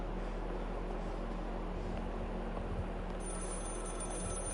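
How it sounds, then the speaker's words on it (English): A telephone in Maid of Sker rings over a dense, continuous background hum, with a thin high ringing tone that comes in toward the end. "And obviously we're gonna ignore the phone calls"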